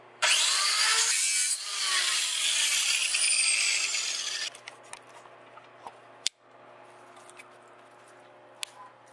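A sanding wheel grinds against a car flywheel being lightened, a loud, bright abrasive rasp that runs steadily for about four seconds before cutting off, followed by quieter scattered clicks and taps.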